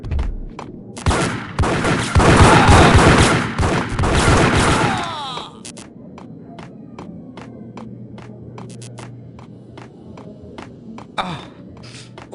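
Gunfire in the video game Max Payne, a dense, loud burst of rapid shots lasting several seconds, then single scattered shots and clicks at a lower level.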